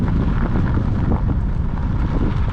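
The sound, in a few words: wind blowing into microphone while bikepacking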